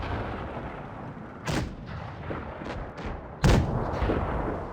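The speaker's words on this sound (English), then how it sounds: "KV-1S gets another shot in" KV-1S tank cannon shots in World of Tanks, two heavy booms a couple of seconds apart over a low rumbling background, the second louder and closer.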